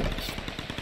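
Rapid automatic gunfire in the Tomb Raider video game, a quick burst of evenly spaced shots, loud and close, with no talk over it.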